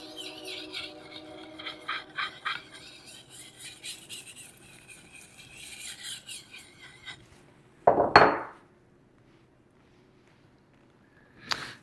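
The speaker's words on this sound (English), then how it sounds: "I'm going to lay the stone flat on the back. And I'm just going to move in a circular pattern." A sharpening stone rubs in circles on the flat back of a steel drawknife blade, a soft rhythmic scraping with faint metallic ringing, followed by a brief louder clatter and then near silence.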